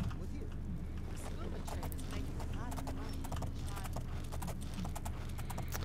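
A horse's hooves clip-clop in the video game Oblivion, a quick, steady run of close hoofbeats with a few creaks, heard alongside game sounds and someone talking.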